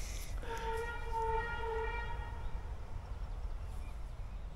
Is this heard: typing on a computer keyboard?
no